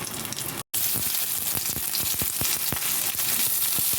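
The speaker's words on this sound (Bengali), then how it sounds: "পেঁয়াজটা দিয়ে আমি ভালোভাবে ভেজে নেবো লাল লাল করে।" Onions sizzle in hot oil after spices are tempered, a dense steady frying hiss with small crackles and pops running throughout, close and moderately loud with no voices.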